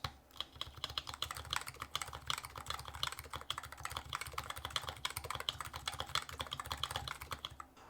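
Continuous fast typing on a lubed EC (electro-capacitive) keyboard build, a dense stream of soft, slightly mushy keystrokes heard up close with no talking.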